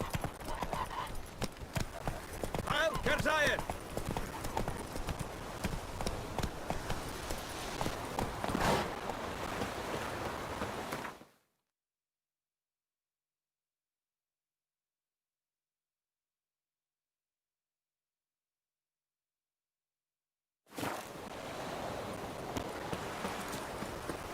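Rhythmic hoof clip-clop of a ridden horse in The Witcher 3 video game, steady and close over game ambience, cutting to silence midway before resuming.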